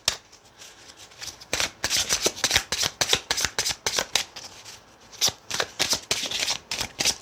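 A tarot and oracle card deck being shuffled up close, with rapid riffling bursts and flicks of cards in uneven runs and a brief pause, with no talking.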